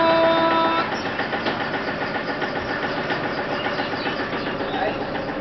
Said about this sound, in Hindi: तो चलिए पहले गाड़ी में बैठते हैं और स्टार्ट करते हैं।